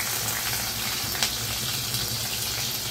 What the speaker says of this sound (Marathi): लसूण चांगला लाल होईपर्यंत आपल्याला हे परतायचं